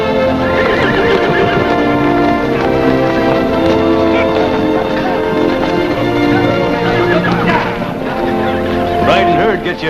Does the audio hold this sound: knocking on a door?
no